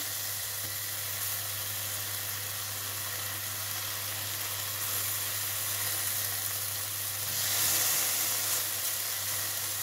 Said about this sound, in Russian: Поджариваем с двух сторон помидорки.